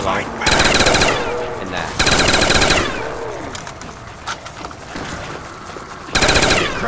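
Automatic weapon fire in Call of Duty: Black Ops, with loud sustained bursts of rapid shots in three separate strings and quieter game sounds between them. A voice speaks briefly.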